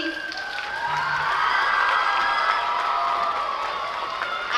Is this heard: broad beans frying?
no